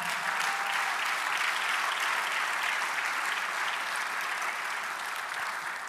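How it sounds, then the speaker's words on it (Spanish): A church congregation claps for the Lord during a Spanish-language sermon, dense continuous applause holding at a steady level from start to finish, loud and near. "dale un aplauso al Señor"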